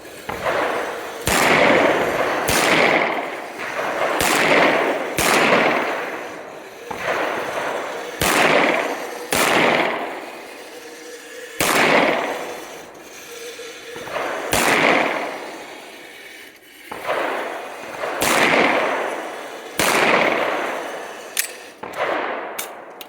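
Handgun shots fired at moving targets on a tactical shooting range ring out as sharp, loud cracks, mostly in quick pairs, spaced a second or two apart for over twenty seconds, with no talk.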